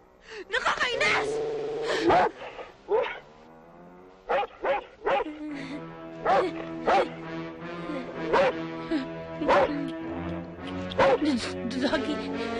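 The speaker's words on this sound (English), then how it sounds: "Doggy." A dog named in a Filipino film scene barks in a series of short, sharp, close bursts across the clip, mixed with gasps and whimpers, with people speaking over it.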